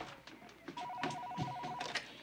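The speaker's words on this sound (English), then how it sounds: "there's the phone" A telephone rings in a home, a steady trilling bell tone running through most of the short stretch, with faint voices and room sounds around it.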